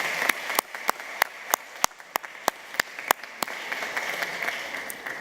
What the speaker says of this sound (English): I invite you to join me in a round of applause for welcoming Louis.